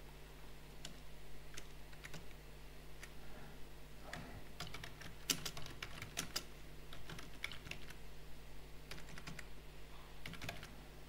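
Quiet computer keyboard typing close by, irregular clusters of light key clicks over faint background hum, with no one speaking.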